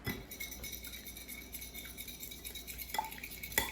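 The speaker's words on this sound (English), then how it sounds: "we scramble 1 large egg with the 1 tablespoon of cornstarch" A large egg and a tablespoon of cornstarch being whisked together for batter, giving a quiet, steady scraping clatter of utensil against the bowl with a couple of brighter clinks near the end.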